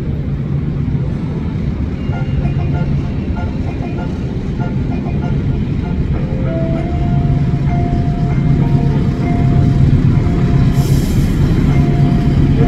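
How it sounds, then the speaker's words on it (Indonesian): A train rumbles steadily through a station, a continuous loud low roar with metallic wheel noise and a faint squeal, close by and sustained throughout. "Hati-hati jalur 2 kereta api akan melintas langsung di jalur 2."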